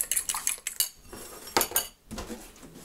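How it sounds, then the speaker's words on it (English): Eggs whisked in a bowl with a fork, quick clinking and scraping strokes in short bursts separated by brief pauses, close by and fairly quiet. "I'm going to go ahead and beat up a few eggs"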